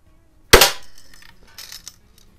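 An Air Venturi Lil' Duke lever-action BB gun fires once with a sharp, loud crack, followed by a faint metallic rattle from the struck metal can and soft handling noises afterward.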